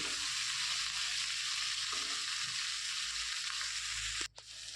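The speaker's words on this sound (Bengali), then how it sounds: "এইবার সমস্ত উপকরণগুলোকে আমি হালকা ভেজে নেব" Vegetables for poha, including carrot, lightly frying in a pan make a steady bright sizzle that runs throughout, with a few soft stirring knocks and a brief scrape near the end.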